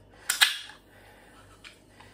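A Monster Nitro Cosmic Peach energy drink can cracks open in two quick, close sharp snaps, followed by a faint fizzing hiss and a few small later clicks in a quiet room.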